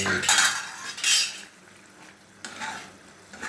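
A metal spoon clinks and scrapes against a cooking pot while dried fish cooks, in a few bright bursts over a soft background sizzle.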